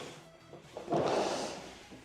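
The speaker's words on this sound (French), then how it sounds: "Alors, toujours pareil, porte coulissante." A sliding bathroom door in a new apartment rolls open with a soft scraping whoosh that swells midway and fades, quiet and close, with no talking.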